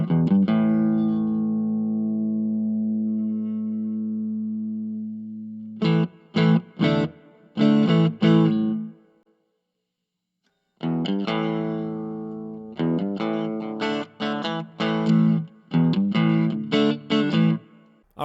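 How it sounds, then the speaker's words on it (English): An electric guitar plays through an amp with a clean tone, sustained chords and short plucked notes, a brief pause, then more strummed phrases. "So let's get that clean sound. Let's play a little bit."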